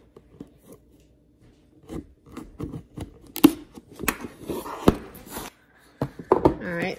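Scissors snip and cut through the packaging of a Halo dog collar, with scattered crisp snips and crinkling plastic rustle at close range, starting quiet and growing busier.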